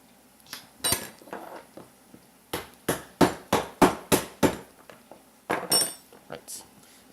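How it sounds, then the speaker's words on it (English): Cooking hammer cracking lobster shells wrapped in a kitchen towel: a run of about a dozen sharp, close thuds, several in a quick steady series, with softer knocks and towel rustle between. "the easiest way to do that is use a hammer, a cooking hammer, and a kitchen towel"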